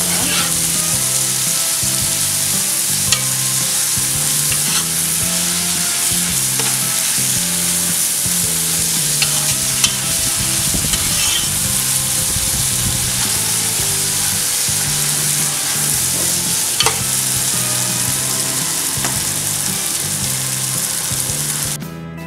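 Masala with curry leaves stirred and frying in a pan for chicken biryani, a loud, constant close sizzle with periodic scraping strokes of stirring under background music, no talking.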